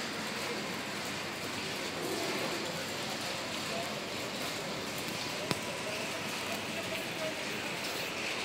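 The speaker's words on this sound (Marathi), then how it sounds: "पाऊस पडतोय." Steady rain falls outside, a dense even hiss of drops on surfaces that holds at a constant level throughout, with one brief sharp tap partway through.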